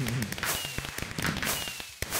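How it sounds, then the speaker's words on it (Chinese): Fireworks in a Minecraft game on a Hypixel server go off as a quick run of sharp pops and crackles, fairly quiet and irregular. "他烟火好大声"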